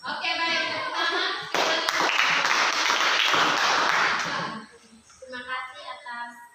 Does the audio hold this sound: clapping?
yes